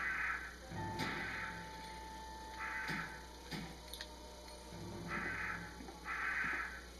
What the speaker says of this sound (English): There's a bunch of crows.